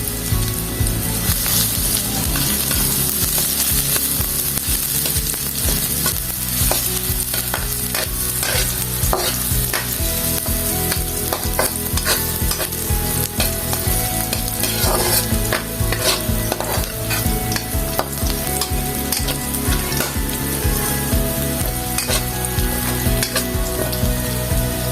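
Garlic sautéing in a pan for a Filipino dish, a steady loud sizzle with ongoing stirring and scraping throughout, no voices.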